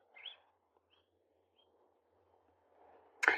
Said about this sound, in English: I don't know if you heard that bird, but it was like coming close and it went off into the distance